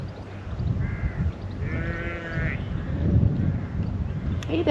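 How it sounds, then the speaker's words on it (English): Sheep bleat in Welsh countryside during a long bike ride, a few wavering calls at moderate distance over steady wind and riding rumble, with a voice talking nearby. "And the sheep."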